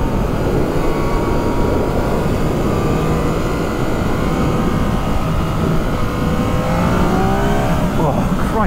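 A 2019 Yamaha MT-09 SP motorcycle engine roars continuously, its pitch climbing steadily as it accelerates hard, with the revs rising sharply toward the end.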